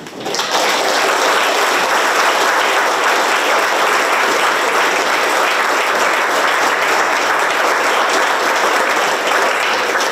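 An audience at a Chamber of Commerce awards dinner applauds an award announcement, a loud, sustained burst of clapping from many hands that starts abruptly and holds steady.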